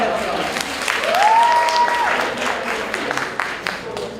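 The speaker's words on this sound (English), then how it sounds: "Give them a round of applause." Applause at a 2024 TCJ debate competition for the overall debate committee, steady crowd clapping with a brief whistle-like tone rising over it, voices mixed in.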